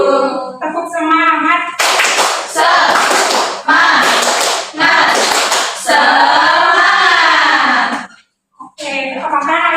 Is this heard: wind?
no